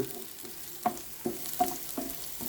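Onion and chili frying in oil for a bean stir-fry, a low steady sizzle with several soft scrapes of a spoon stirring the pan at an even pace.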